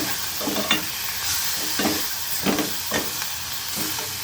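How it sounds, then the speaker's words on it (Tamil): Masala stirred into sambar rice frying in a single pot, with a continuous sizzle and hiss under repeated scraping stir strokes, close and moderately loud, and no talking. "இந்த மசாலாவையும் இப்போவே சேர்த்துருவோம். சேர்த்துட்டு இதை நல்லா கலந்து விட்டுக்கலாம்."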